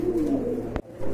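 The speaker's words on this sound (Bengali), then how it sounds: "ডাউকা কবুতর রয়েছে" Dowka pigeons, one of a pair kept for sale, give a close, clear low coo that glides downward, followed by a sharp brief knock near the end.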